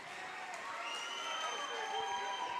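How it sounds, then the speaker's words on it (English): A home crowd at a girls' varsity high school basketball game cheers in approval, a steady, distant roar of voices filling the gym without letup. "As the Engadine faithful cheer with approval"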